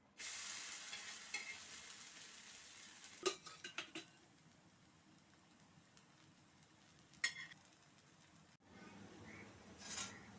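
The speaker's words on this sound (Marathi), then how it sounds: "तुम्ही हा आवाज पाहू शकता की जेणेकरून तुम्हाला कळेल की किती क्रिस्पी झालेला आहे हे थालीपीठ" Crispy poha thalipeeth fries in a pan with a soft, steady sizzle, broken by a few louder clatters and scrapes as the pan or spatula is handled. The sizzle stays quiet throughout.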